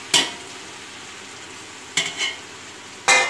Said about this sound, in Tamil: இப்போ நம்ம தக்காளி ஆட் பண்ணிக்கலாம்.